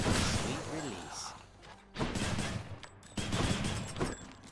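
Gun weapon firing in the video game Hades, sustained bursts of rapid gunfire with dense impacts and game effects, pausing briefly between volleys, with a voice speaking over it.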